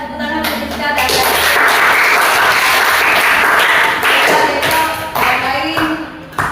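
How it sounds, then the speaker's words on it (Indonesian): A class gives a loud, close round of clapping at an Indonesian mathematics teaching session, the applause sustained throughout before tapering slightly near the end. "tepuk tangan untuk kita belajar"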